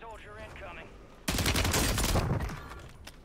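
Loud burst of automatic gunfire in the video game Warzone 3, likely an AMR9 submachine gun, erupting suddenly after a quieter stretch with voices and sustaining as a dense rapid volley before tapering off.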